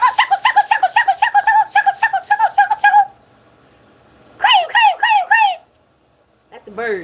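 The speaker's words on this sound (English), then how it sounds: "That's the birds." Birds call in a rapid run of harmonic chirps for about three seconds, then a short burst of repeated falling cries after a pause, close and fairly loud against quiet background.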